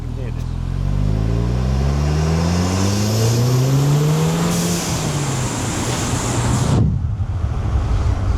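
Audi TTS with a 2.0 TFSI engine and ram air intake kit revving hard, engine pitch sweeping up and down for several seconds before a sudden cut-off, with wind noise throughout.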